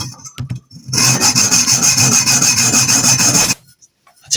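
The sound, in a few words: cutting a fire extinguisher cylinder for a homemade airgun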